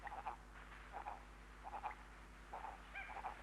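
A large frog calling at night, with repeated short croaks in loose pairs and clusters over a faint low background hum.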